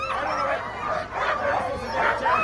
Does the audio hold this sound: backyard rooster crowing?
no